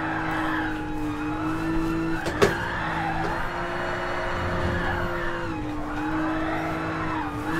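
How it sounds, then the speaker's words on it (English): Car drifting in a racing video game, with a sustained engine drone and continuous tire skid and squeal running throughout, loud and close, plus one sharp transient near the middle. "See if I can get some drift cranking."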